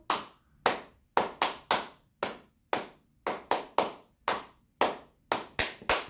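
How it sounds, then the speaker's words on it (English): Irregular, crisp hand claps keeping time with the children's song Bingo, close and dry with silence between, some claps in quick pairs and triplets. "Now, it's just straight clapping."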